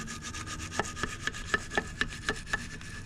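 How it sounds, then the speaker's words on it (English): A small brush scrubs inside the rear brake caliper of a 2013 Yamaha FJR 1300, making close scraping strokes in a steady rhythm of about three per second over a faint hum. No voices are heard. "now I have my little brush, and I'm going to clean it inside here"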